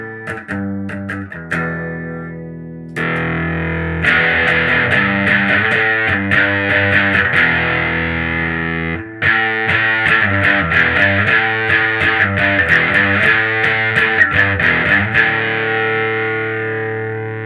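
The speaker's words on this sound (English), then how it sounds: "I'm going to play a couple of bars so you get a baseline of what the amp sounds like" Electric guitar played through a 6V6 amp, with a Gordon Drive overdrive pedal in the chain, rings out in a few short chords and then sustained, driven riffing, loud and close with no voices.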